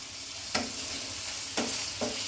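Paneer and vegetables for veg dum biryani get stirred in a pan, with three distinct scraping strokes of a spatula over a steady soft sizzle, close and moderately loud.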